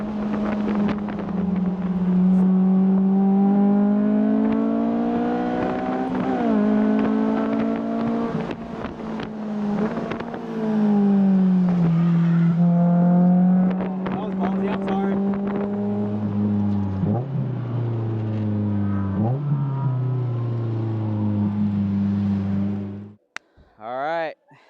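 A Honda Fit drives a race track, its engine droning loudly and steadily, the pitch climbing and dropping with each gear change over constant wind rush, then cutting off abruptly at the end.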